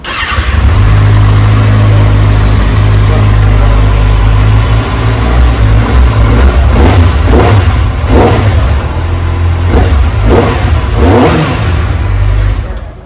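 A Kawasaki Z900 motorcycle engine idles with a loud, steady rumble. Several sharp throttle revs then swell and fall back in quick succession before the idle settles again.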